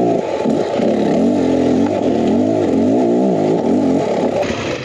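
A 2023 Beta X Trainer 300 dirt bike rides a rocky shale trail, its two-stroke engine loud and close, rising and falling in pitch as the throttle opens and eases throughout.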